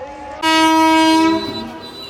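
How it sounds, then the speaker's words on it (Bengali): A commuter train horn blasts once, loud and sustained for about a second, close by, as the train leaves Shyampur railway station, with a low rumble of the train continuing after. "ট্রেনটি এখন শ্যামপুর রেলওয়ে স্টেশন ছেড়ে যাচ্ছে"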